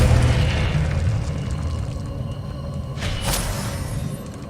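A Descendo spell strikes in Hogwarts Legacy, landing as a deep booming impact with a low rumble that swells briefly and fades, followed by a second softer burst a few seconds later.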